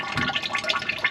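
Old transmission fluid drains from a car's drain plug in a steady, gurgling splatter of liquid, close and continuous.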